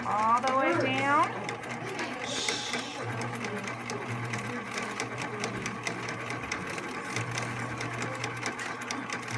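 A sewing machine stitches the bottom seam of a drawstring bag, its rapid even needle rattle running steadily throughout after a brief voice at the start.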